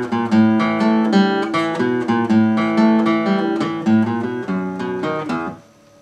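Acoustic guitar riff from a song, strummed with all downstrokes, heavy and even chords ringing alone for about five seconds before stopping abruptly.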